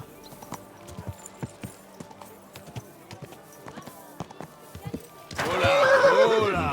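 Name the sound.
horse neighing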